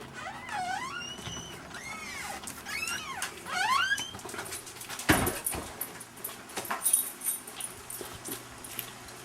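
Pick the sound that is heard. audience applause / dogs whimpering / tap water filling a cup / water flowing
dogs whimpering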